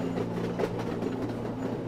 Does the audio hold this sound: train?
yes